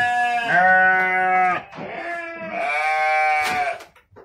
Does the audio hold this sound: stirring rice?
no